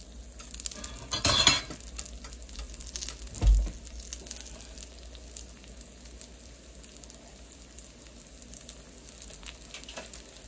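A pan-seared burrito sizzles in a frying pan with a steady soft hiss, broken by a sharp clatter of the spatula flip near the start and a thud a moment later.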